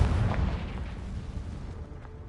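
A Confringo blasting spell in Hogwarts Legacy bursts with a low, rumbling explosion that starts loud and slowly fades, with faint crackling debris trailing off.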